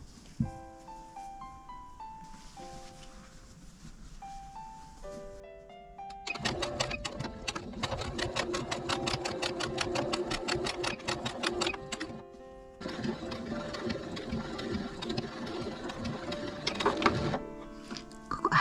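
A sewing machine stitching a long seam along folded patchwork fabric, a rapid mechanical clatter in bursts with a short pause between runs, preceded by a few electronic beeps.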